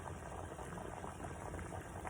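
A pot of water boils at a full rolling boil, a dense steady bubbling and gurgling that stays close and even throughout, with no voices.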